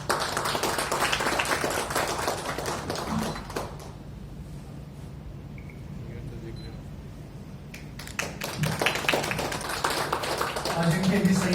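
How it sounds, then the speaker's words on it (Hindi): Audience applause at a travel trade meet in India, dense crackling clapping that fades to a quieter lull midway and then swells again, with speech over it. "आपकी जोरदार तालियों के साथ।"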